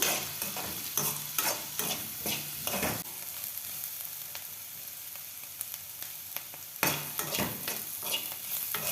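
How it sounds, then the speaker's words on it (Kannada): Capsicum frying in oil in a pan for a curry. A spatula scrapes and stirs against the pan throughout, with a steady sizzle underneath. The stirring eases off in the middle and then picks up again toward the end, and no one speaks. "ನೋಡಿ, ಈ ಥರ ಚೆನ್ನಾಗಿ ಫ್ರೈ ಮಾಡ್ಕೋಬೇಕು ಕೆಂಪಿಗೆ."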